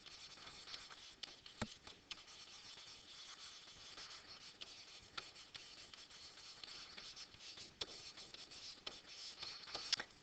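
Faint scratchy writing of notes on a surface, a continuous soft rubbing with scattered small taps and strokes, quiet and close, with no talking.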